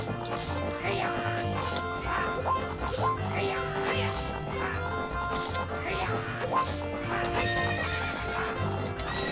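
A horse whinnies and snorts a few times in Zelda: Ocarina of Time over a steady layered background of music and ambient noise.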